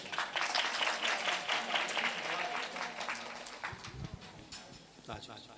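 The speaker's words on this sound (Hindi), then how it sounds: "एक बार जोरदार ताली बजाएं।" Audience applause at a Shri Ram Katha religious gathering in Ambala, Haryana, loud dense clapping from a large crowd that gradually thins and fades, with a voice talking over the tail end.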